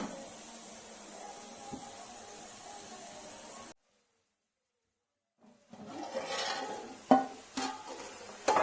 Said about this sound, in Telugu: దీన్ని ఇలా బాగా కలుపుకుందాం